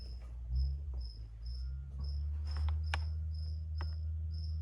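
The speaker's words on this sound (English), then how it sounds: "You guys hear the crickets in the background?" Crickets chirp steadily in a garden of growing tomato plants, rhythmic pulsing trills repeating at an even pace over a low background hum, moderately near and alone.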